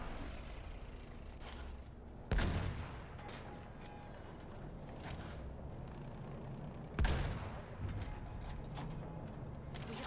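Gunfire in Battlefield 1 rings out as two sharp, fairly close shots several seconds apart over a low background rumble of the battlefield.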